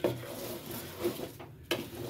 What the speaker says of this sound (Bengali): ভালো করে মাংসটার সাথে চাউলটাকে নাড়াচাড়া দিয়ে মিশিয়ে নেব